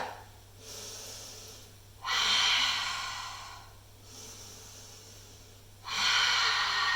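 Heavy, audible breaths during cardio pilates exercise, alternating long inhales and forceful exhales in slow cycles, close to the ear over a low steady hum.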